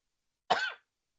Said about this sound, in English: sounds like that cough is coming back.